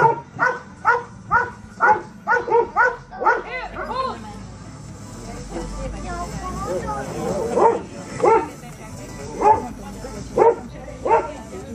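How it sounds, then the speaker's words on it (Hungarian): A rescue dog at a club demonstration in Balassagyarmat barks in loud, evenly spaced bursts, first a quick series and then slower spaced barks, over crowd noise and a nearby voice. "Nem haraphat, csak ugat."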